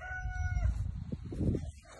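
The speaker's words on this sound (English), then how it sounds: "Well, roosters are crowing." The tail end of a rooster's crow fades out, followed by muffled rustling and low thumps nearby.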